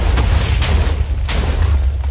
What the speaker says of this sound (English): This will be explosions again.